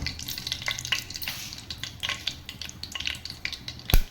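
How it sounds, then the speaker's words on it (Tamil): Mustard seeds crackle and pop in hot oil, a dense irregular spluttering with sharp little bursts, close and busy, ending with one louder snap. "கடுகு வெடிச்சிருச்சு."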